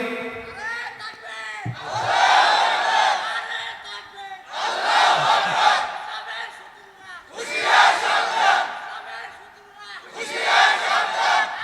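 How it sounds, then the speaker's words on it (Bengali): A crowd at a Bangla religious waz sermon in Gafargaon roars takbir, a chanted Allahu Akbar, in four loud massed bursts separated by short pauses, with a lone voice leading before the first shout. "এই সাহসে একজন যুবক তাকবীর দাও তো দেখি।"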